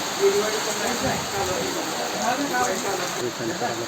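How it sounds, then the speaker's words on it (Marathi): Rain falls steadily, a dense hiss of drops on surfaces, with a few faint voices in the background. "बरेच दिवस पाऊस नव्हता त्यामुळे पावसाची गरज होती त्या बापूच्या सेवानिवृत्तीला पावसानं हजेरी लावलेली आहे"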